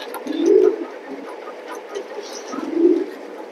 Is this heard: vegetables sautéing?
no